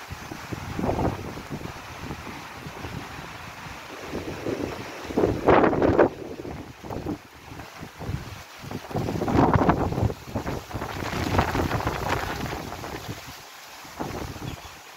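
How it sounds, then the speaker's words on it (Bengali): Strong stormy wind from Cyclone Remal roaring and buffeting against the microphone in surging gusts, loud and continuous with several sharper blasts. "বাতাস, সেই বাতাস।"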